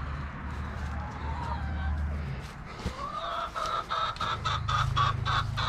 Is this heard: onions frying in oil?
no